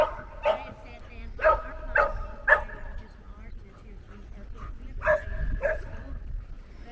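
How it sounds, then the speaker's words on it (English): A dog barks repeatedly at a moderate distance at a coastal wild camp by calm water at Ballintoy on the Causeway Coast, in two clusters of yaps separated by a pause, over a low background rumble. "Shame about the dog ruining the peace and quiet."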